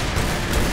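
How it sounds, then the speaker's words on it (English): Lara Croft's pistols firing in the Tomb Raider Underworld video game, a short, loud burst of dense booming gunfire filling the whole brief moment with no talking. "Lara doesn't fire all that fast with her pistols"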